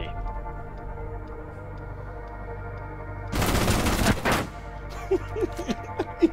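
Gunfire in the Rainbow Six Siege video game, a loud rapid burst of automatic shots over a steady hum, followed by several sharper scattered single cracks.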